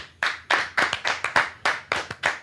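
An audience claps in a few slow, separate rounds of hand claps, close and fairly loud, with no talking.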